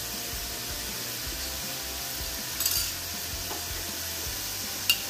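Banana chips frying in oil are stirred, a quiet steady sizzle with soft scraping and a couple of brief clinks, no talk.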